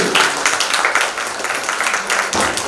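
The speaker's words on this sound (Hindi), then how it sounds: "आपके ऊपर तालियां जोर से बजा दीजिए" Audience applause rings out at a stage drama performance, a dense, steady wash of many hands clapping close by, with a brief swell near the end.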